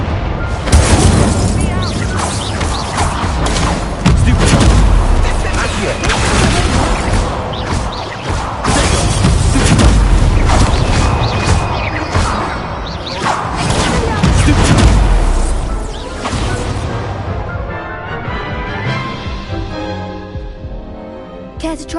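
Repeated Confringo blasting-spell explosions in Hogwarts Legacy, loud booms and crashes layered over dense game music and effects, with a character's voice calling out, tapering off near the end.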